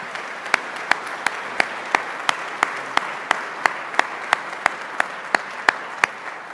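Audience at a school awards assembly claps in a steady, evenly spaced rhythm of crisp individual claps, alone with no talk.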